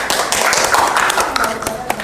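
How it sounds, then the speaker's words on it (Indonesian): Students in a classroom applaud after a class presentation, a short burst of dense, close hand clapping from a small group. "Tepuk tangan."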